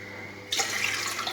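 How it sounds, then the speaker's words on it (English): Hot-drink preparation: tap water pours into a kitchen utensil, bursting in abruptly after a half-second of quiet hum and then rushing steadily and close for the rest of the moment. "3 cups of water, pour it into the utensil."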